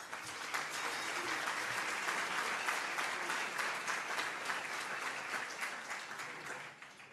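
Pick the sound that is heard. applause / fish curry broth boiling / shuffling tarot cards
applause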